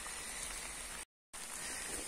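Rain falls outdoors during a garden recording, a soft continuous hiss of drops with a brief dropout in the middle, faint and steady with no voices.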